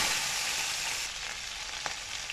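Fenugreek seeds, bay leaf and green chili sizzle in hot oil in a wok, a steady close frying hiss with a faint stir or clink near the end.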